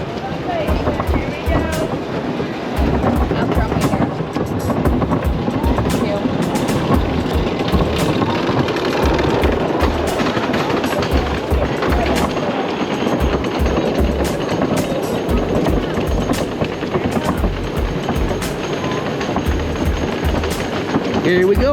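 A ride on the Rollo Coaster roller coaster at an amusement park rumbles and clatters steadily along the track, loud and continuous, with voices mixed in over the noise.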